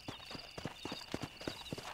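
Hooves of a horse clip-clop in the Red Dead Redemption video game, a quick irregular run of distinct hoof strikes, fairly faint and close, with no talk over them.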